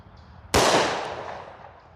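A single loud, sharp report from a Smith & Wesson M&P Shield .40 pistol firing Speer Gold Dot 165gr JHP rounds, with a reverberating tail that fades over about a second and a half.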